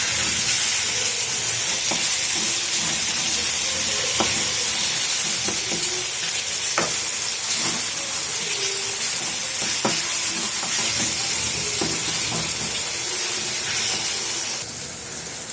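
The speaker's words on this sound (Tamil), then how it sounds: "தக்காளி போட்டுக்கலாம் தக்காளி நல்லா வதக்கலாம்" Chopped tomatoes sauté in oil in a pan for an oil-rich brinjal curry, giving a loud, continuous sizzle marked by scattered sharp clicks of stirring throughout.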